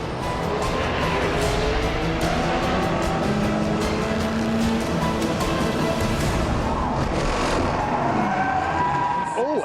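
A race car goes off the circuit after contact and spins, with steady engine roar, tire scrubbing and crowd noise at a distance under an excited commentator.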